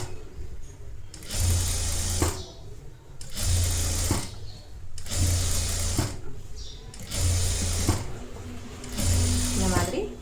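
A sewing machine runs flat stitches on a netted blouse in several bursts of rapid whirring, each separated by short pauses, with a voice talking in between.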